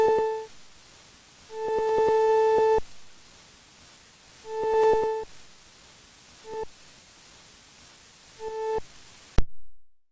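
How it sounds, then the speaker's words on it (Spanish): Sonified meteor detection turns a radio feed into a steady hiss of white noise, broken by several clear beeping tones in short bursts of varying length. The tones come at irregular intervals across the stretch before the sound cuts off abruptly. "es un ruido blanco que cuando aparece un meteoro, pues lo traducimos a ese sonido"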